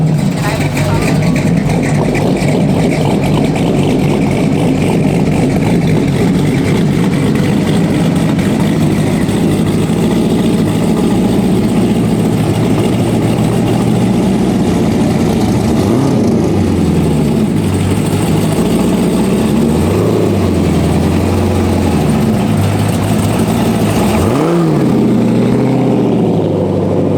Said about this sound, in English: So there's a lot of cars getting ready to roll through here.